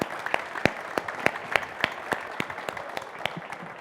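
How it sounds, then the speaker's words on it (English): A small audience at a climate panel event claps for the panelists: a light, uneven patter of individual claps with several sharp, distinct hand strikes standing out. "give a big round of applause to our panelists"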